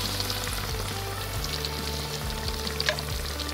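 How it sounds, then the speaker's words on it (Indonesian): Peacock bass frying in hot oil until golden brown, giving a steady, dense sizzle and crackle with small pops. It is fairly quiet and continuous, with no talking. "Goreng hingga ikan berubah warna menjadi coklat keemasan."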